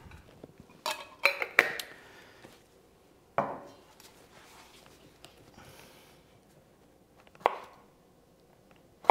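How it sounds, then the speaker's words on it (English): Pickles sliced with a knife for a smash burger, a few scattered sharp knocks of the blade on a cutting board with quiet gaps between, close and fairly faint. "I'm gonna slice up 2 pickles"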